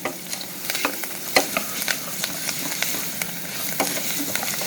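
Rice and garlic toasting in a pan for cilantro lime rice, a lively close sizzle broken by frequent scraping and tapping stirs of a spoon, with no talking over it.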